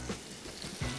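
Bologna slices fry in melted butter in a pan, a brief close hissing sizzle with no talk.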